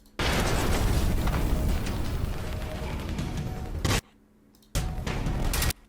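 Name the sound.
rocket explosion in the video game Generation Zero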